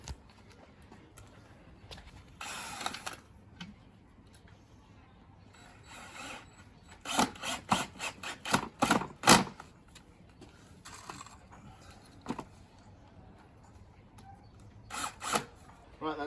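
A power drill drives 1.5-inch screws to join wooden boot rack pieces, with short buzzing bursts and a cluster of rapid whirring pulses midway, close up, amid quieter handling noises.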